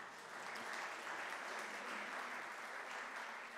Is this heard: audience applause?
yes